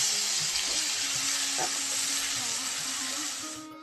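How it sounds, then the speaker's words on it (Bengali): Chopped tomato and onion sizzle steadily in a frying pan while being stirred, with a constant close hiss and faint scraping knocks, fading slightly at the end. "একটু নাড়িয়ে চেড়ে টমেটোটা ভেজে নিচ্ছি।"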